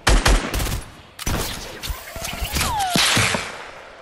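Rapid bursts of gunfire from the video game Getaway, several sharp cracks followed by sustained automatic fire and a whizzing tone, loud and close with no talking.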